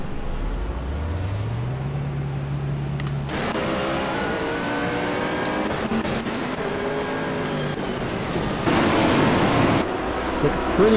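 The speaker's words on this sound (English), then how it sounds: "Engine's revving." GT race cars revving together at a race start at Silverstone: one engine climbs in pitch, then a loud, dense roar of many engines surges and holds, close and intense throughout.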